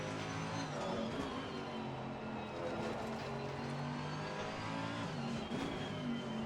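Race car engine in the racing sim Assetto Corsa Competizione on the Catalunya circuit, a steady droning exhaust holding near-constant revs with slight throttle variations, continuous and moderately loud.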